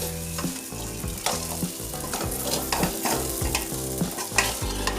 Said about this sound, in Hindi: ये हमारे ड्राई फ्रूट फ्राई हो चुके हैं